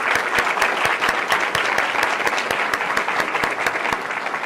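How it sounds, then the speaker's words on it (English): Students at a school board meeting clapping together: a steady, loud round of applause from a room of hands with some sharp individual claps standing out, continuous throughout and without voices. "Students, clap."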